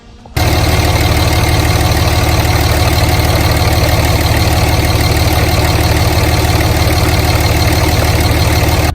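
A 5.9-liter 24-valve Cummins diesel in a high-mileage truck with heavy blow-by, running loud and steady at close range after a brief start, a constant rough idle rumble with no talk.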